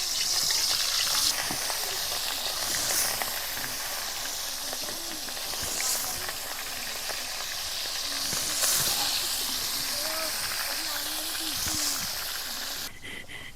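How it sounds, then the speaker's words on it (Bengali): Katla fish pieces frying in hot oil in a wok give a continuous loud hissing sizzle with bubbly spitting throughout, and faint voice-like sounds can be heard underneath. "এবার মাছগুলো ভেজে নেব"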